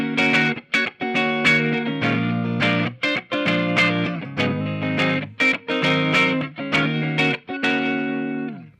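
A 2021 Gold Sparkle Silverburst Gibson Les Paul electric guitar played through its neck pickup rings out in loud, warm strummed chords and picked notes, rhythmic phrases with short gaps and no talking.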